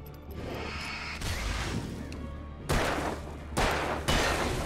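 Gunfire in the Alan Wake video game, a clatter of shots and impacts over rumbling background, with three sharp loud bursts near the end, close and unaccompanied by talk.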